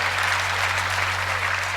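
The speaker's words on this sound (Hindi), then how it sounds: "ताली बजाओ।" At a Hindi comic poetry recital, an audience gives sustained, dense clapping, even and loud throughout the short stretch, over a steady low electrical hum from the hall's sound system.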